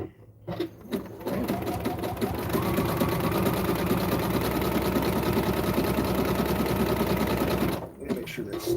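A sewing machine stitches wrestling tights in a fast, continuous mechanical whirr of rapid needle strokes lasting several seconds, starting and stopping abruptly, close and fairly quiet.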